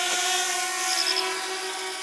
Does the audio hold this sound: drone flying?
yes